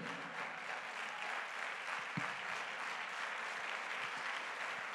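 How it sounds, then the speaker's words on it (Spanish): A seated church congregation claps in praise, a dense, sustained patter of many hands at an even level throughout, with no voices over it. "Y sentado le damos palma de alabanza al que vive."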